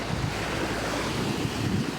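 A flooding river rushes loudly after heavy rain, a dense continuous roar of churning water with wind buffeting the microphone, close and steady with no talk.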